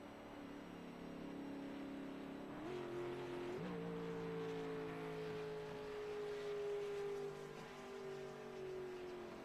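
A race car in a Talladega racing video game drones steadily at moderate level, its engine tone sliding up twice early on and then holding a long, slowly falling pitch as it circles the speedway, with no talk over it.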